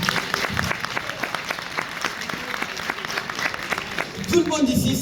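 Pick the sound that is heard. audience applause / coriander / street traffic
audience applause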